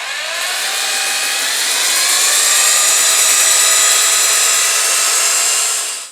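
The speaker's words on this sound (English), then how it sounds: "Most of this is gonna be power sanding with the bowl not turning." A power sander works on a wooden winged bowl held still on the lathe, giving a steady, loud high-pitched whir with a rough abrasive hiss that ramps up and cuts off sharply at the end, with no talk.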